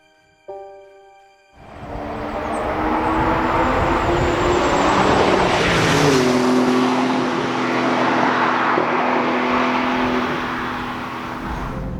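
Porsche 911 GTS starting up, a brief crank and catch followed by a steady, loud engine note that rises and shifts in pitch around the middle before settling, with no talking.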